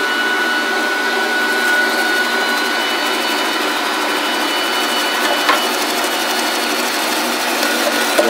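A family grain mill's electric motor runs with a steady, even whir, continuous and unchanging at moderate loudness throughout, with no talking.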